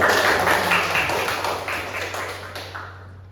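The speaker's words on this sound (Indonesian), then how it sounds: "Tepuk tangan." A class of fourth-grade children clapping hands together in a classroom, a busy burst of many small claps that gradually fades out toward the end.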